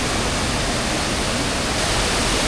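Constant broadband roar of the waterfall at Magebail near Sringeri, steady and dense without a break.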